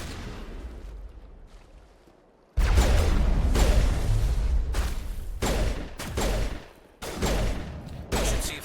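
Gunfire in Mass Effect comes as loud, dense bursts of rapid shots after a quiet opening, several volleys separated by brief pauses.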